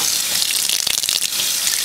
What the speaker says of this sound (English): we're rinsing out the yarn and hoping that we get some color behind